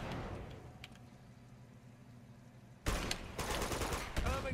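Gunfire in the video game Uncharted 2 breaks out after a quiet stretch, a loud dense volley of rapid shots near the end, with faint low rumble beforehand.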